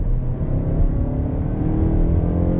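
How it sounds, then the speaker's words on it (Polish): A 200-horsepower second-generation Mazda CX-5 accelerates at full throttle from about 50 km/h, a steady low engine drone with rising harmonics heard from inside the cabin, continuous and fairly loud with no talk. "gaz w podłogę."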